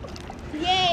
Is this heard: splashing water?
yes